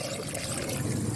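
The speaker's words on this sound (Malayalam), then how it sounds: "ഞാൻ ആവശ്യത്തിന് വെള്ളം ഒഴിക്കാം." Water is poured into a pot of coconut sambar while cooking, a steady splashing pour that runs continuously and evenly, close and moderately quiet.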